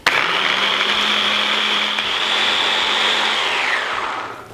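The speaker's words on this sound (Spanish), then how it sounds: "le damos a la batidora para triturar" A blender pureeing sauce whirs loudly at a steady high pitch for about four seconds, then winds down and stops.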